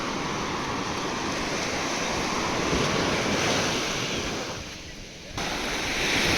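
Ocean surf rolls onto a beach at sunset on Havelock Island in the Andamans, a steady broad wash of breaking waves mixed with wind rumble on the microphone, briefly dipping before swelling again.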